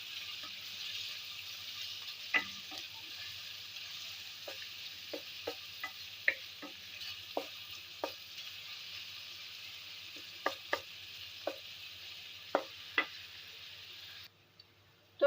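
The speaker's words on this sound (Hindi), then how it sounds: "प्याज को हमने ब्राउन कर लेना है" Chopped onions browning in oil in a frying pan for matar pulao, giving a steady close sizzle with scattered sharp ticks and pops from stirring and spattering, and no voices.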